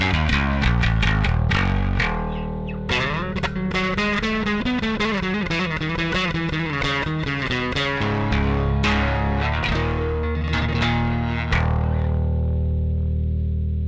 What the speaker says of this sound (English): I'm going to switch over to the bridge pickup, and this is where we've got some envelope filter and some distortion from the turbo rat.